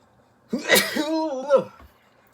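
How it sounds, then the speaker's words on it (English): A person sneezes once, up close, during a video game session. The sneeze is voiced and drawn out over about a second after a sharp intake, followed by quiet. "I might have to sneeze."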